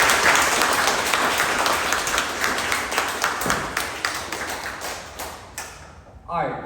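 Audience applause at a kick-off event with special guest speakers: dense clapping fills the room and slowly thins out before fading away.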